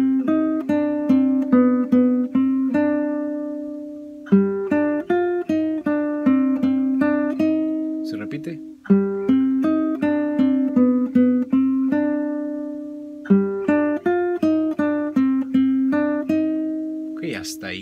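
Acoustic guitar picking a repeated phrase of a song, clear single plucked notes in a steady rhythm, played twice through with a brief upper flourish at the end of each pass, close and alone.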